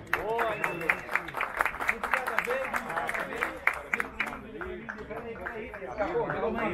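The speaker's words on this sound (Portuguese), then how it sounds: "Felipe Rádio, as nossas palmas, por gentileza." Applause at an award ceremony for a cycling race in Goiás: a crowd claps steadily and fairly close for several seconds, with an announcer's voice over it before the clapping thins near the end.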